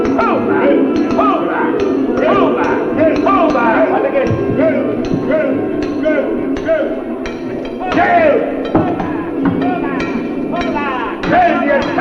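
Hammer blows ring on a hand rock drill during a drilling contest, fast repeated metallic strikes under loud shouting and cheering from a crowd.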